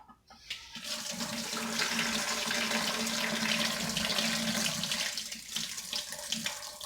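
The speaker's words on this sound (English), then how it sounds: "I'm going to go ahead now and drain this off." Rinse water pours off a pot of soaked dry beans being prepared for pressure canning. The splashing, steady drain builds quickly, holds for several seconds and then trickles off, with no talking.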